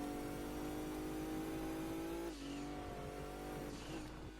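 A stage 4 turbocharged race car in the video game Gran Turismo 2 drives Smokey Mountain North, its engine droning steadily at high revs with a brief dip like a gear change or lift partway through, alone and fairly faint.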